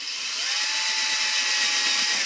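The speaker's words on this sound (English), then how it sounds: "I'm going to drill a hole in there, but slightly lean it," A power drill bores a hole into a plastic bottle cutter, running as one steady, loud, continuous whine with a slight rise in pitch as it bites, with no talk over it.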